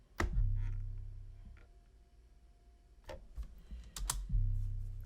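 A deep 808 bass sample triggered in FL Studio booms and rings out low and heavy, sustaining and fading, then hits again near the end, with faint clicks of mouse or keys between the notes.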